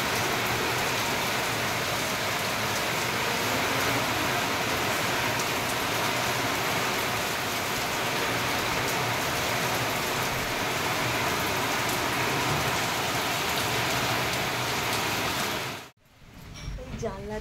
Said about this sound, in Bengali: প্রচণ্ড বৃষ্টি হচ্ছে